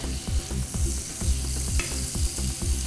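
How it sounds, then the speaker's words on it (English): Butter sizzles and crackles in a hot pan while making lobster mac and cheese, steady and fairly loud, with a light rhythmic stirring texture underneath. "That's gonna sizzle."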